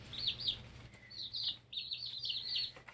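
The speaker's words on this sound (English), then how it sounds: "But they're just chirping away." Baby chicks about three weeks old, huddled together in a brooder, chirp in repeated high, bright bursts over a low background hum, fairly close and moderately loud.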